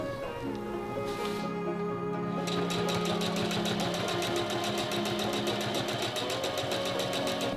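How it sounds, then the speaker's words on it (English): A sewing machine stitching a cotton waistband lining for a pleated skirt, running steadily at close range with a fast, even mechanical rattle that grows denser and quicker after a brief slower start. "I'm just pinning and sewing them right sides together."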